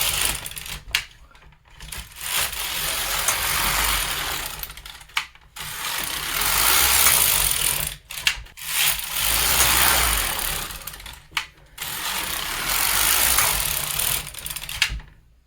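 Knitting machine carriage sliding back and forth across the needle bed knitting rows for a hemmed brim hat, with four loud sustained mechanical passes separated by brief pauses and clicks, no voices.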